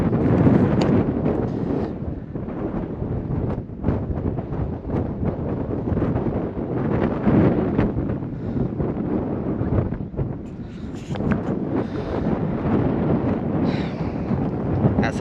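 Gusty wind buffets the microphone at a lakeside spot in the Lake District, a heavy low rumble with sharp crackling bursts that rises and falls throughout; no clear voice comes through.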